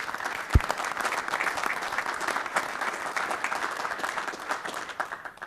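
Audience applauding at a board of authority meeting, a dense sustained burst of clapping from a room of people with a sharp knock near the start and faint voices underneath.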